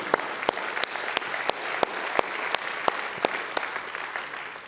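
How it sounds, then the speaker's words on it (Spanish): Church congregation applauding throughout, a dense, steady wash of clapping with a few sharp louder claps standing out, moderately loud and without talk. "Dale un fuerte aplauso a Él."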